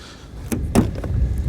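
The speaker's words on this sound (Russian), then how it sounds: "Так, двери немного примерзли." A slightly frozen door on a Skoda Octavia A7 is pulled open in winter, giving a few close, sharp clunks and thuds with a brief crackling release, loud against a quiet background.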